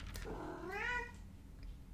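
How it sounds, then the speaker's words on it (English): A house cat lets out one drawn-out meow that rises and then falls, quiet and a little distant, with no talking around it. "My cat is still going a little crazy."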